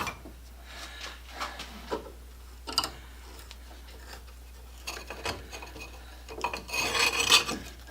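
A support washer is drilled during a rivet forge rebuild: intermittent rasping, grinding cuts come in uneven bursts with quiet gaps and grow denser and louder toward the end.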